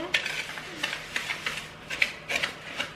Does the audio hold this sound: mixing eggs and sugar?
yes